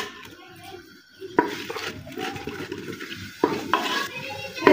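Whole spices including bay leaf, cloves and black cardamom go into hot ghee in a pot and are stirred, with metallic scraping and clinks of a spoon against the pan over a faint sizzle.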